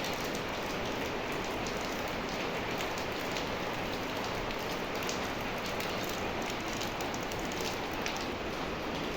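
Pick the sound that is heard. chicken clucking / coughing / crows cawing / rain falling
rain falling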